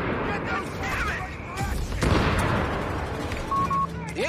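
Cannons and artillery fire thud and boom in a Company of Heroes 3 Italian campaign battle, with scattered blasts and gunfire layered beneath steady shouting voices and chatter.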